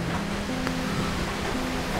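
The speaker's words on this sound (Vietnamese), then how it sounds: "Mưa gió dằn vũ rồi." Rain and wind during a storm at a rural Vietnamese home where a cabbage soup meal is being cooked, heard as a steady, dense broadband wash of falling rain and gusting air with a faint low hum underneath, no one speaking.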